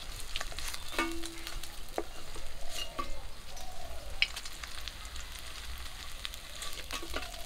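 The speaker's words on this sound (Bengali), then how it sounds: "বাকি মাছগুলো একই রকম করে ভাজা করে নেব।" Another batch of pabda fish frying in a pan, a continuous close sizzle with scattered pops and light scraping of a spatula, no voices over it.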